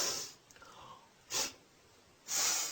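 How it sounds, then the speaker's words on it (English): A single disapproving sniff, a short sharp intake of air through the nose, repeated as two close, loud bursts of breathy hiss separated by a quiet pause. "How do I show disapproval? Easy. You sniff."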